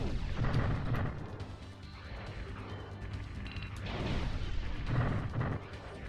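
Bombs exploding in the Sega Saturn rail shooter Panzer Dragoon, a string of crunching blasts and bursts with clusters near the start and end over steady game music and mechanical noise, fairly faint overall.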